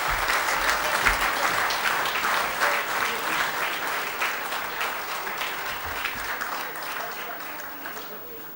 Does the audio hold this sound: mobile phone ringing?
no